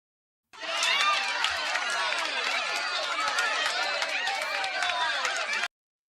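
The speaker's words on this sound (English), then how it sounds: "I could hit the applause button" A canned applause sound effect fired from a soundboard button on a morning stream, a burst of crowd clapping and cheering that starts abruptly, runs about five seconds, then cuts off sharply.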